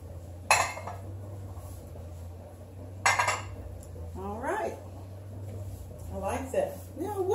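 Ceramic bowls set down on a kitchen table make two sharp clinking knocks a few seconds apart, close and clear, with someone talking between them.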